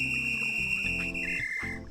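A whistle in the farming video game Autonauts sounds as a sustained high tone, shifting pitch partway through, over soft game background tones.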